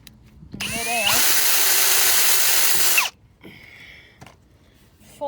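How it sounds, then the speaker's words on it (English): A power drill whines at high speed for about two seconds, spinning up and cutting through 1/2-inch irrigation tubing, then stops, followed by faint clicks and handling noise. "I'm going to drill a hole in it"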